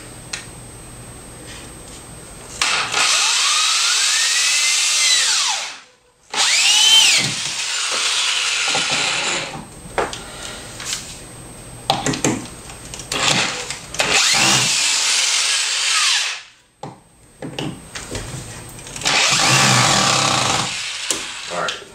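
Power drill driving screws into wood while building an HO scale model railroad, in several loud whirring bursts of a few seconds each, separated by short pauses and quieter handling noise.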